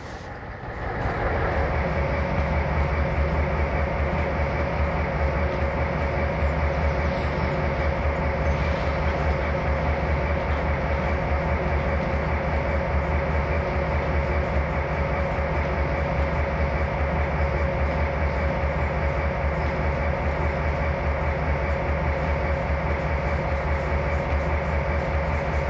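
A CSX EMD GP38-2 diesel locomotive hauling a coal train in a rail simulator game gives a steady, loud, continuous drone of engine rumble and rolling wheels, with no voices.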